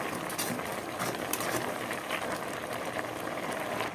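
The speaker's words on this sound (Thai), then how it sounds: "เดือดบุดๆเลยนะครับ" Continuous dense bubbling and rattling of a snakehead fish dish boiling hard in a pot, steady and fairly loud with no pauses or talk.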